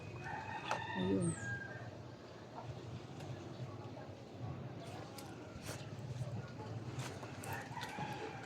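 Chickens cluck and a rooster crows briefly near the start, with scattered clucks continuing faintly while a person speaks a word.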